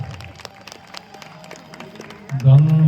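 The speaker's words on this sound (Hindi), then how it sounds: "जोरदार तालियां।" Scattered audience applause at a Ramlila performance: sparse, fairly close claps for about two seconds, then a loud sustained voice or tone cuts in near the end.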